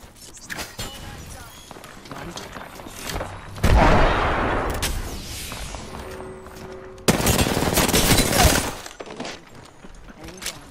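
Gunfire fills an Apex Legends match, with rapid bursts and loud sustained volleys standing out against quieter in-game action and scattered impacts.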